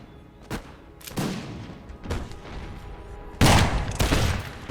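Musket volleys in the strategy game Imperial Splendour, with several rolling ragged bursts of massed gunfire, some distant and some closer and louder, crackling one after another with brief gaps.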